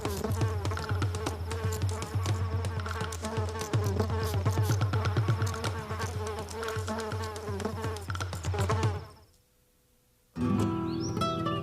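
Insects drone and buzz around garden flowers while they pollinate them, a loud, dense, continuous hum that cuts out abruptly for about a second and then resumes.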